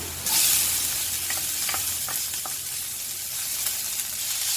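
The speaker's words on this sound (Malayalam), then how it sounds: "പച്ചമുളക് ചെറുതായി അരിഞ്ഞത് ചേർത്ത് കൊടുത്ത് വഴറ്റാം" Chopped green chili and a large chopped onion sautéing in a pan, a loud steady sizzle with a burst as the ingredients drop in, then stirring scrapes over continuous frying hiss, no talk.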